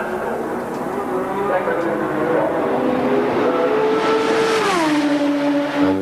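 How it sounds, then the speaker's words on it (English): A BMW-engined Formula 1 car at full throttle during qualifying for the 1986 Australian Grand Prix, a loud sustained engine whine that shifts pitch downward near the end, with crowd and commentary noise underneath. "the BMW engine he's got behind him is probably the most powerful"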